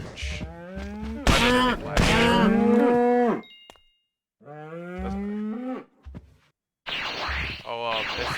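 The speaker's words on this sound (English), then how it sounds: "Man, cows are obnoxious in this version." Cows in the video game Dragon Block C moo loudly several times in a row, each call a long, drawn-out bellow. Brief silences fall between the calls, and a short crackle sounds in the middle.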